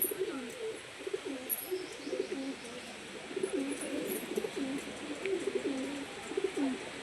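Andhra pigeons cooing steadily in a loft, a continuous overlapping stream of soft, throaty rolling coos, moderately close, with faint chirps and no speech.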